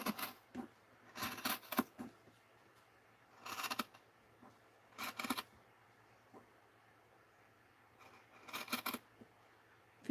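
Scissors make a few separate bursts of snipping, each a short crisp cluster of cuts with quiet pauses between, close and fairly soft.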